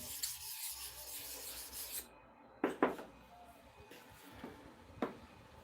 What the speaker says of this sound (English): Let's continue the sharpening.